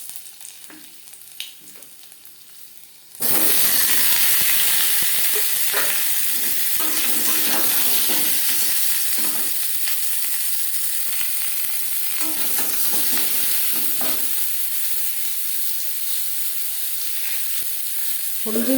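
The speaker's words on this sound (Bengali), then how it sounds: "সবার প্রথমে আমি আলু ভেজে নেব।" Potatoes hit hot oil in a pan after a quiet lead-in, then a loud, continuous sizzle and crackle goes on throughout with scattered stirring scrapes and no talk.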